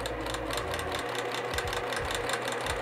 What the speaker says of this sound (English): now I'm just gonna be sewing down this fold line